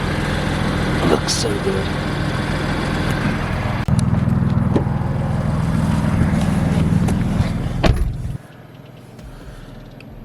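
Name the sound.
BMW F80 car engine warming up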